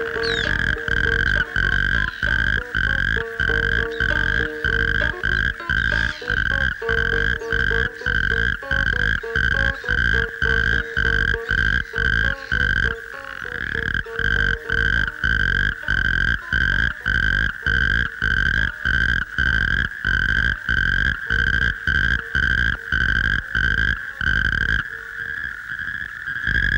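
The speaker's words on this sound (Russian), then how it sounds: "Это свадебный зов камышовой жабы." A loud, rapid, rattling trill of a natterjack toad's mating call, repeated in long bursts, each separated by a short gap, close and continuous.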